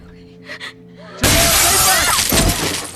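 After a moment of quiet with a faint voice, a glass door in the video game The Last of Us Remastered suddenly shatters loudly, a bright crash followed by tinkling shards falling for a couple of seconds.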